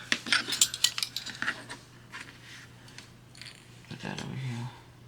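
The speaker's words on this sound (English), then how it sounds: "Now I get the spatulas." Metal painting spatulas clink and rattle together in quick bursts as they are picked up and sorted, then a few softer knocks follow and a voice speaks briefly near the end.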